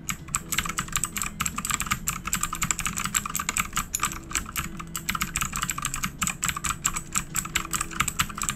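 A computer keyboard is typed on steadily in rapid, close clicking keystrokes, recorded on a Blue Yeti microphone in omnidirectional mode. Faint music sits low in the background.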